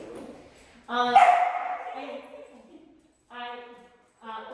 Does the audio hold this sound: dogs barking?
yes